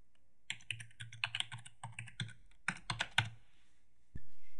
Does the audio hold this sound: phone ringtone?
no